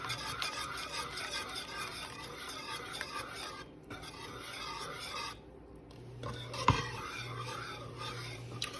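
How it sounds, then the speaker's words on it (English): A spoon scrapes and swirls through a thick mac and cheese sauce as cheese is worked in over gentle heat, giving a soft, continuous rasping stir close up with a brief clink near the end. "And we're just going to start stirring that in."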